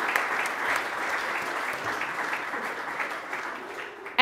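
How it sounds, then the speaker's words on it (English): Steady audience applause fills a conference hall at an even, moderate level, continuing without a break until an abrupt louder burst at the very end. "Can I get a round of applause for them, please?"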